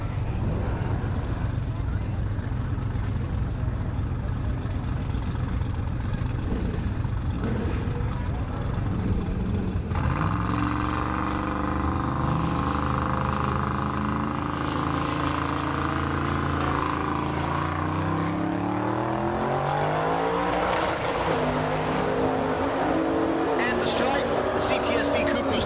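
A Cadillac CTS-V Coupe and a Chevelle launching side by side at a Great Bend, Kansas dragstrip, a loud engine roar rising through the gears and fading into the distance, with a track announcer talking over it.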